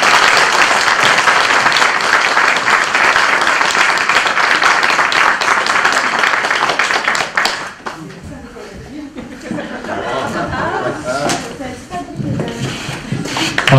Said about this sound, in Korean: 박수 내주세요.